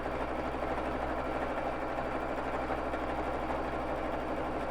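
A Babylock Jazz II sewing machine free motion quilting with Aurifil thread, running fast and steady throughout with a continuous close, even mechanical hum.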